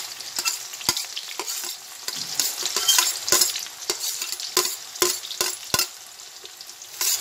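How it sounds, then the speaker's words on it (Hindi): Finely chopped onion fries in hot oil, a loud crackling sizzle punctuated by sharp clacks of a spoon stirring against the pan, close and without talk. "मैं इसमें जो है बारीक कटा हुआ प्याज डालूंगी।"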